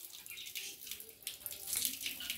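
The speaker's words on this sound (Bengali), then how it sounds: "এবার মুখটা ভালো করে ধুয়ে নাও, 2 হাত দিয়ে ধাও, 2 হাত দিয়ে ভালো করে হাতটা ভিজায় নাও।" Water running from a tap as a child washes face at a sink, a soft continuous splashing and trickle, close but quiet, with an adult voice speaking over it.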